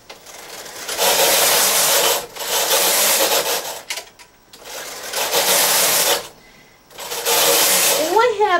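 A double jacquard knitting machine carriage sliding right to left in repeated passes, a bright rasping whoosh with short pauses between strokes, close and loud.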